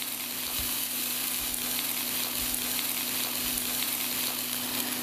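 Food sautéing in a smoking-hot pan, a steady loud sizzle and crackle with a constant hum beneath, no talking.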